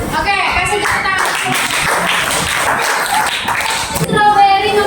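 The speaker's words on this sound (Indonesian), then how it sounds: "Oke, kasih tepuk tangan." Classroom applause during a training session on making fried noodles, a group clapping loosely and unevenly for a few seconds with voices mixed in, fairly loud and close.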